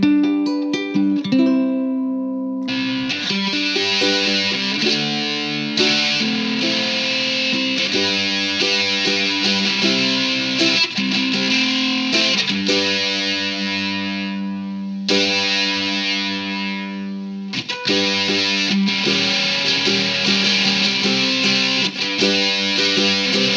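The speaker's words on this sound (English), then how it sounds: "So this will be highly distorted, even with the distortion all the way down." Ukulele played through a heavily distorted overdrive or fuzz pedal, fed a thick, sustained, buzzing tone of chords and single notes that runs continuously and loudly with brief dips, no voices.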